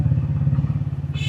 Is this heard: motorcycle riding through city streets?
yes